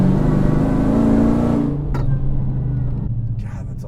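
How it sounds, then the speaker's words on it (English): A 1200 hp all-carbon-fiber Dodge Demon built by SpeedKore surges forward under light throttle, its loud, deep engine drone rising in pitch for under two seconds before cutting off and leaving a quieter rumble of the car rolling on. "just the lightest amount of accelerator on this, and instantly it's in go mode"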